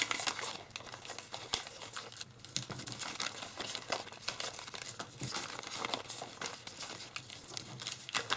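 Origami paper is folded and creased into a sunflower, giving close, quiet crinkling and rustling with scattered sharp crackles through the whole stretch.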